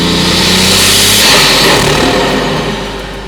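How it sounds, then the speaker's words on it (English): Stage 3 tuned BMW X5 40i SUV rising in a loud revving surge from its intake and engine, with a broad roaring rush that swells then fades toward the end, no speech. "the sounds that it makes from this intake system are absolutely amazing"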